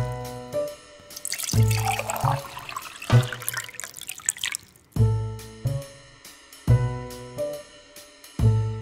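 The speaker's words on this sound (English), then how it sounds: "So we'll pour a little bit of the green." Green coloured liquid is poured during a colour-mixing experiment, a brief splashy trickle heard amid a loud, repeating musical backing that keeps going after the pour.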